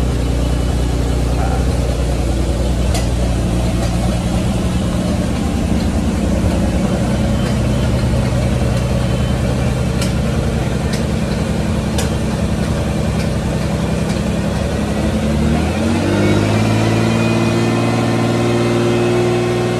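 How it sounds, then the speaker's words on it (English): Ferrari V12 engine running in a collector's garage, a steady, deep mechanical drone held at idle that shifts in pitch near the end, loud and close. "It would be great to start it up at some point and listen to what 12 cylinders sounds like."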